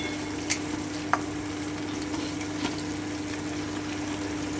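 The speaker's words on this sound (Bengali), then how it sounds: "আর একটুখানি ভেজে নিচ্ছি" A steady sizzle of eggplant and potato frying for a spinach ghonto fills the clip, with a low hum and a couple of faint utensil clicks near the start.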